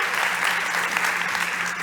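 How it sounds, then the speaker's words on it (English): Audience at a startup pitch competition clapping together: a dense, steady burst of applause from a crowd, close and continuous for the whole short stretch. "Once more, a big round of applause for Nika Pinter from AniBiome."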